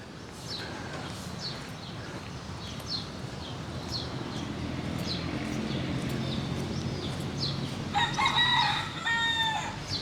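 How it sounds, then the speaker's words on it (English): A rooster crows loudly and close by near the end, over outdoor background noise in the Philippines with faint bird calls and distant rustling. "Not without its roosters."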